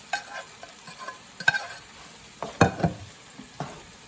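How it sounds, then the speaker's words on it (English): Spaghetti is stirred into melted butter in a pan over low heat, producing intermittent scraping stirs and soft sizzling in uneven bursts, with no talking. "Okay, so I want to start adding in the spaghetti to this."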